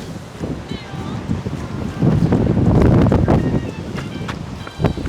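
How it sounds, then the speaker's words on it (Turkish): Strong wind buffets the microphone in rough, rising gusts, loudest in the middle, with faint voices underneath. "Ama öyle bir rüzgar var ki şu an."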